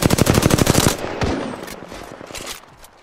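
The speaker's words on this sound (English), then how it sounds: "Shot fired." Rapid automatic gunfire in the Apex Legends battle game, a fast burst of about a dozen loud close shots, followed by a few scattered shots and reverberant echoes as it fades.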